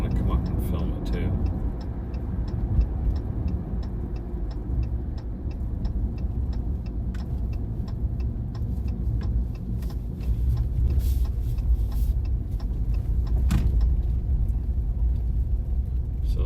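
Steady low interior rumble of a car being driven, the engine and road noise constant with small ticking clicks; a person talks over it.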